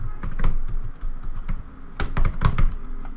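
Keys clatter on a computer keyboard as a first name is typed into a web form, a close, irregular run of crisp clicks with short pauses and a denser burst near the end.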